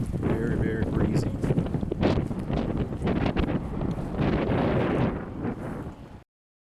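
A cold, strong west-northwest wind buffets the microphone with loud, continuous roaring gusts through the whole stretch, then drops away abruptly at the end.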